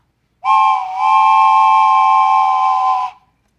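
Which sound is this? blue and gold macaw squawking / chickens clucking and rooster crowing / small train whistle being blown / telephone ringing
small train whistle being blown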